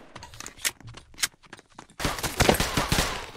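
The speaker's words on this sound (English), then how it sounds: "Why are these guys shooting?" Gunfire in a Roblox video game: scattered sharp shots at first, then a louder, denser stretch of rapid overlapping firing in the second half.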